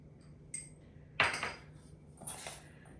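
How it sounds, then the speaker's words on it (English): Bowl of raspberry-avocado salsa with scallions being stirred, giving a few light utensil clinks and scrapes against the bowl, close and quiet, with no talking. "I'm going to stir this up with just a couple scallions"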